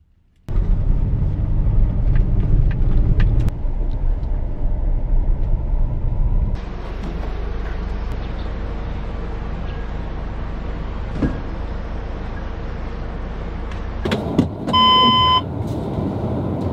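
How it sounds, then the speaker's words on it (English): Steady rumble of many cars in crowded market traffic, a continuous engine drone with occasional passing swells and a brief beeping tone near the end, no talk. "Today's market is so crowded, so many cars."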